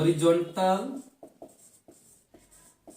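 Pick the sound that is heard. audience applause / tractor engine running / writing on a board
writing on a board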